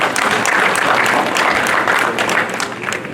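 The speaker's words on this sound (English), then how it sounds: "a round of applause to all of us" Applause at an inauguration ceremony for the FCT Head of Service and permanent secretaries, a large crowd clapping loudly and steadily, tapering slightly toward the end.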